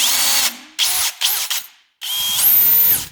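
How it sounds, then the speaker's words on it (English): A power drill whirs in three bursts with short gaps as it turns a freshly rebuilt dirt bike engine to check whether the intake valves are bent, with a rising pitch and whine in the last burst. "checking with the drill, seeing if these are bent"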